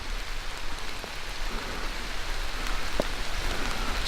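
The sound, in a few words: rain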